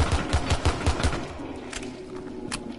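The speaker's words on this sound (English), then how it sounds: "I can just shoot for days" Rapid automatic gunfire in the video game Rainbow Six, a close burst of evenly spaced shots that gives way to scattered distant shots and game ambience, with no talking.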